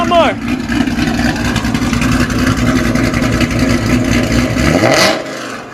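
A Ford GT500 fitted with a Ford Racing axle-back exhaust revs loudly and steadily for several seconds, its deep engine roar close and continuous before cutting off near the end; a voice speaks briefly over it.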